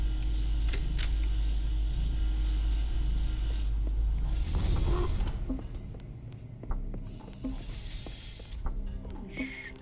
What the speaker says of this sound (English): And now we get to enjoy a short elevator ride.